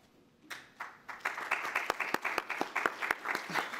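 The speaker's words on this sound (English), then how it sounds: "I like the applause before I speak" Audience applause at an annual business meeting, starting sparse with a few claps and building into steady, moderately loud clapping from a room of people just before a speaker begins.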